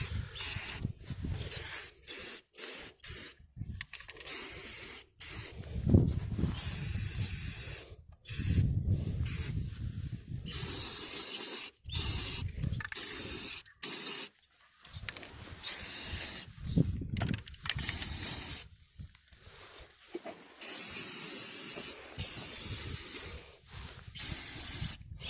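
Spray paint hisses in repeated bursts of a second or two as a thick coat goes onto a yard faucet pipe. The hissing is close and loud, separated by short silences, with no talk.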